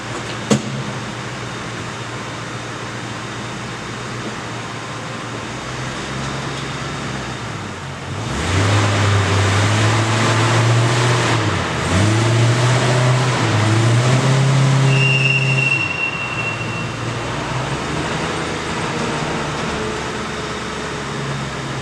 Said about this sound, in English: I'm going to jump in the car, step on the brake, give it a little gas, and try to put a little bit of a load on the engine.